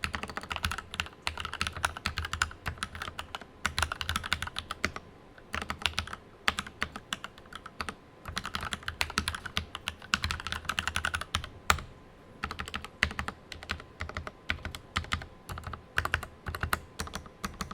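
Fast, steady typing on a Dugaud Taurus mechanical keyboard with linear 50 g switches, dense clacky keystrokes close up with brief pauses, no voices.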